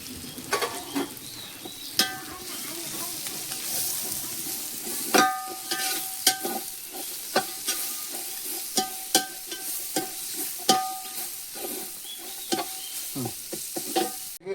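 Onions fry in a pan for a goat boti dish, crackling and sizzling while a spoon scrapes and knocks against the metal in repeated sharp clatters, loud and close, with a faint bird call in the background.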